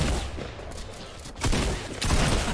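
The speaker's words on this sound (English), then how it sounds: "I missed my pump shot" Shotgun blasts from a pump shotgun in the Fortnite video game, a few loud broadband bursts over a busy game soundscape.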